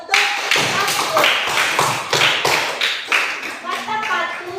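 A class of children claps for a student, a loud run of sharp overlapping hand claps in an uneven rhythm that tapers off toward the end, with faint voices mixed in.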